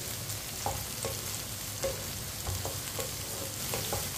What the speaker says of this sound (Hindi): भिंडी को इसी तरह चम्मच चलाते हुए फ्राई करना